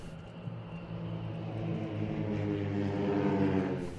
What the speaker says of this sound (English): With their four Marchetti SF260 trainers, they formed the Belgian national display team